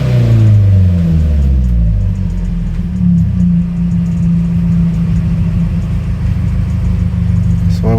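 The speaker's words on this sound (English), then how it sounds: "So I'm going to rev it again." Car engine revving after fitting a blow-off valve and Accessport tuner, a loud, close, sustained mid-pitched rumble that climbs and holds steady for several seconds with no talk over it.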